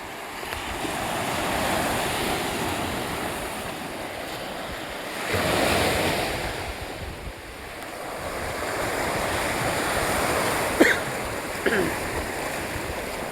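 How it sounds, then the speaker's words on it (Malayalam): Sea waves roar against an island shore in a steady, swelling wash of surf, mixed with gusts of wind buffeting the microphone and a few faint knocks. "കടലിൻ്റെ ഇരമ്പം കേൾക്കാം എന്ന് വിശ്വസിക്കുന്നു."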